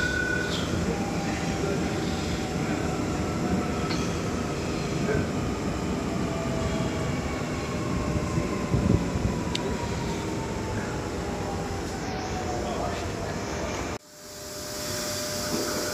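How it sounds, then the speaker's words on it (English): Sydney Trains M set electric train arriving at Sydenham station, a steady broad rumble with faint squealing tones throughout, cutting off sharply near the end. "We have an M set, sorry, arriving."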